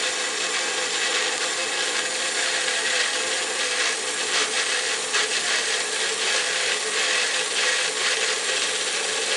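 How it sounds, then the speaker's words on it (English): A Magic Bullet blender grinds up ingredients beside an outdoor grill, a steady, close whirring grind with a rough, gritty texture and no pauses. "Put this in the bullet. Let it grind it up."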